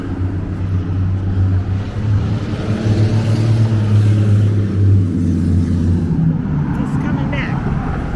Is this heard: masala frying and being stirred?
no